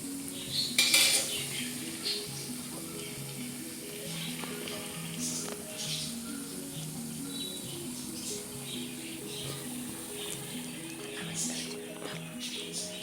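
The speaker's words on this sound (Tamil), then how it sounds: "இப்போ இது எல்லாத்தையும் பொரிச்சு எடுத்துக்கலாம்" Potato bajji fry in oil in a pan, with a soft steady sizzle under frequent clinks of utensils against cookware and a loud clatter near the start.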